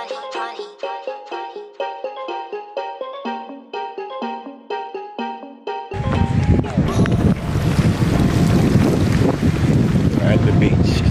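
Strong wind buffets the microphone on a San Francisco beach, a loud steady roar that swells in over the second half, following a stretch of plucked, tonal notes.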